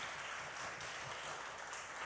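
A church congregation applauding, a dense, even patter of many hands that stays faint and distant throughout.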